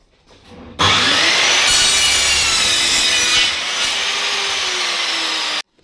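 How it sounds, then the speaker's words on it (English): A power saw cuts a wooden skirting board for a miter joint, one loud continuous rasping cut of about five seconds that starts and stops abruptly, close by and with no talk. "We'll put a cut on that end, and then we'll just miter this end so it laps with his other miter on his joint."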